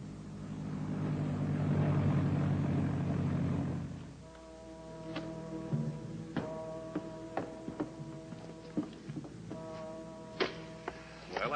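A small plane comes in to land with wheels down: engine drone swells and fades, then gives way to a series of sharp clicks and mechanical knocks close by, with faint voices nearby.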